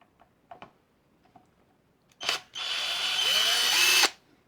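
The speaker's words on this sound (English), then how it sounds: "Oh, I got a new drill" A new power drill is handled with a few light clicks, then gives a short burst and a sustained whirring run of about one and a half seconds before spinning down, in a guitar workshop.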